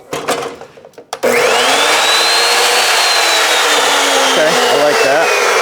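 Evolution chop saw spinning up after a brief handling clatter, then a loud, steady whine close by that holds without pause to the end.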